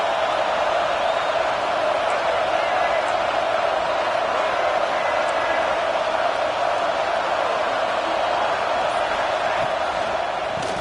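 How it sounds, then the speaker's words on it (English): A packed football stadium crowd roars early in a game, a dense, unbroken wash of cheering and noise holding steady at high volume throughout. "Listen to the crowd energy here in the early going."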